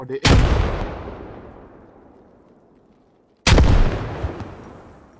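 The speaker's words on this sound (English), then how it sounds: "They're throwing grenades." Two loud, sharp grenade blasts in the SquadOps military shooter game, the first decaying into a long rumbling tail before the second hits a few seconds later.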